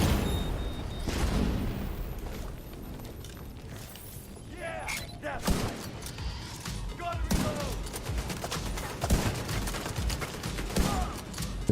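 Rapid sniper rifle shots from the White Death weapon in the video game The Division 2, a burst of sharp, loud cracks and booms over clattering combat noise, with someone talking over the gunfire.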